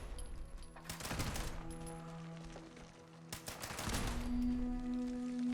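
Security turrets fire bursts of automatic gunfire at scorched enemies in Fallout 76, near the Black Mountain Ordnance Works, with dense rapid volleys around the first and fourth seconds over steady game ambience, and no talk.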